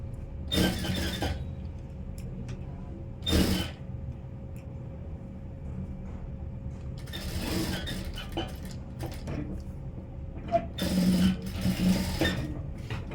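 A sewing machine stitches along the edge of a princess cut blouse in short, widely spaced bursts of quick mechanical chatter, close but fairly soft, separated by quiet stretches.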